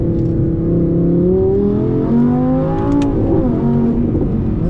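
A loud Audi R8 V10 Plus engine revs and climbs through its range toward 8,500 RPM on an alpine drive, its howl rising and falling steadily, close and continuous.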